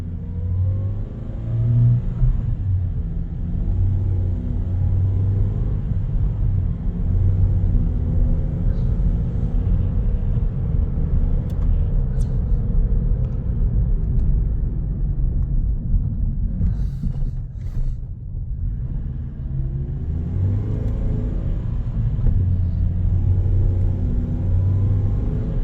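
A car with a fully slipping clutch drives along, its engine rumbling steadily and swelling in revs as it shifts through the gears, with no talk over the continuous cabin drone.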